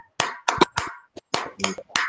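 A group of adults at a school training session claps out a short rhythmic pattern: a sequence of sharp, close hand claps in quick bursts, some doubled, with brief pauses between them.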